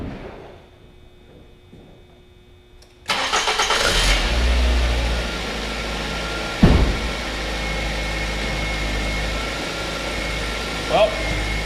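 A 2005 Ford Focus engine cranks and catches after a quiet stretch, then runs at a steady, loud idle with a brief rev bump partway through, close by.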